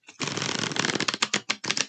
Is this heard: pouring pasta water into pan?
no